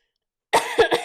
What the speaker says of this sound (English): You guys notice that my cough is slowly going away?